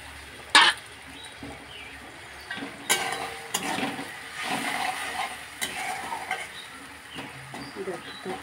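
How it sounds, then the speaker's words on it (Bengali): Water splashed into a pan of frying fish curry with cabbage, seasoned with turmeric powder, bursting into a sharp hiss and then settling into a steady moderate sizzle with stirring clinks, close by, a voice talking over it at times. "একটু জল দিয়ে দেব।"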